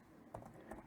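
Faint keystrokes on a computer keyboard, two soft clusters of taps separated by a short pause in an otherwise quiet room.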